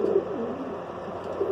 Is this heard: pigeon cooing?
yes